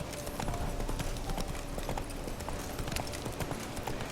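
Horse hooves clip-clop in a steady riding rhythm throughout in The Witcher 3, layered over a dense, constant game ambience with occasional faint whinny-like tones.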